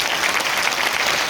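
Crowd clapping at a large recognition night event in Ranchi, a dense, loud and steady burst of many hands applauding together.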